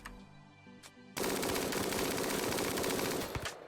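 Rapid automatic gunfire aimed at a cassowary in RimWorld, a dense loud burst of continuous shots lasting over two seconds after a short quieter lead-in.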